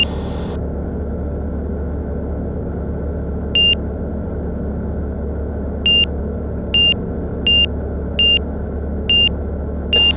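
Warning beeper in a flight simulator game: short, identical electronic beeps repeat at irregular intervals over a steady low engine rumble, with a brief tone at the start and no talking.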